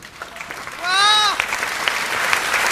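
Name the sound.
audience applause at a Hindi comedy poetry show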